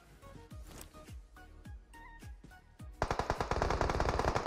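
Gunfire in the mobile battle royale PUBG Mobile: separate single shots at first, then from about three seconds a loud, dense burst of rapid automatic fire, with no talking.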